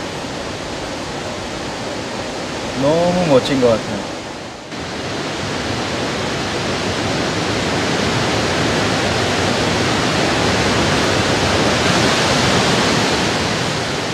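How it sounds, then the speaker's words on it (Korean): The Iguazu waterfalls in Argentina roar as a loud, steady broadband rush. Someone speaks briefly near the start, then the falling water continues alone and swells slightly. "이과수에는 모두 274개의 크고 작은 폭포가 있습니다."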